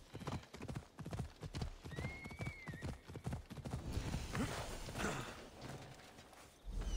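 Rhythmic horse hooves clip-clop at a steady walking pace in the video game Assassin's Creed Odyssey, with a brief whinny partway through and faint background sounds.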